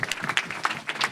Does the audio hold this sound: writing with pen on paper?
no